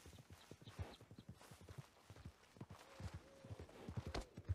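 Horse hooves in the video game Red Dead Redemption 2, a rapid, steady clip-clop of galloping in a quick rhythm, fairly close, at low level with no one talking over it.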